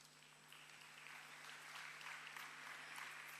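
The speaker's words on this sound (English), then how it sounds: "Your applause, ladies and gentlemen" Audience applause at a graduation convocation as a name is called, a soft continuous patter of many hands heard faintly at a distance over a low electrical hum from the hall.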